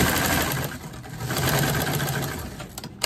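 A sewing machine without a reverse function stitches a seam forward, its fast, even mechanical whir running continuously at close range and slowing near the end, with no talking.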